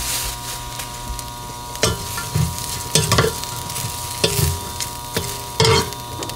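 Dried pollack stir-fried in sesame oil sizzles in a pan for a rich pollack soup, with a steady frying hiss broken by repeated scraping stirs at an uneven rhythm, close and fairly loud.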